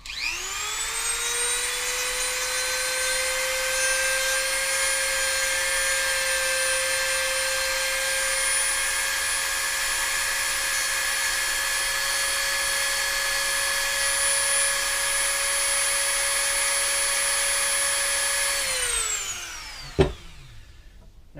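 A power tool shaves excess material from around a hole on an airsoft DSG gearbox part, a steady high-pitched whine that runs unbroken for nearly twenty seconds before spinning down, followed by a single sharp click.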